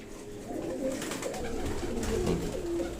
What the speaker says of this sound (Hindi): अब ये एक कमगर कबूतर है